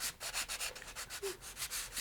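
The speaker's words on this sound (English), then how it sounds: "you can come in here and sand that fillet" Sandpaper rubbing over a glued fillet on model rocket fins, close and steady, in a run of quick rhythmic back-and-forth strokes with no talk.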